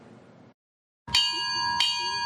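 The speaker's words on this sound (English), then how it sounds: "The sound of a bell, with each ring marking a ship lost in the Battle of the Atlantic" A memorial bell rings in a town remembrance for ships lost in the Battle of the Atlantic, with two clear struck tones a moment apart, each leaving a long shimmering ring after a brief silence.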